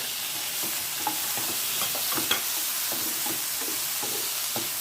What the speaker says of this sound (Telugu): ఆనియన్స్ ఇలా పింక్ కలర్లో టర్న్ అయిన తర్వాత ఒక రెండు పెద్ద సైజు టొమాటోస్ని కూడా వేస్తున్నానండి